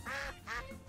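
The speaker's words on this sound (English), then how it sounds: "when a duck dies, he just goes quacking" A duck creature from a monster-collecting video game lets out two loud, close quacks as it faints, each a short nasal burst with a brief pause between.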